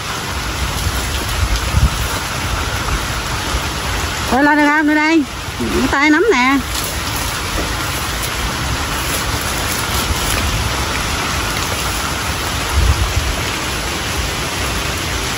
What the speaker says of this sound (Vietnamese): Ông trời mưa ngon lành luôn cả nhà.